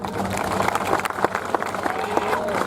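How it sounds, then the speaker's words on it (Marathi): A crowd at an outdoor village wrestling bout in Vadshinge claps and cheers amid loud, busy noise, with scattered sharp claps and a commentator's voice booming over the din. "सर्वांनी टाळ्या वाजवा"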